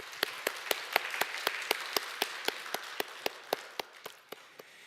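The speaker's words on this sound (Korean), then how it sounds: "우리 다시 한번 감사의 박수를 부탁드립니다." A church congregation at a Sunday worship service claps steadily in thanks, a sharp, even rhythm of about four beats per second that holds for the whole stretch before tapering slightly.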